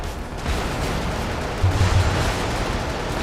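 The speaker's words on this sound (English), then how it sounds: "Explosions." Video game explosions and gunfire rumble as dense, loud low-end booms over continuous noisy battle din, with a heavier thud burst partway through.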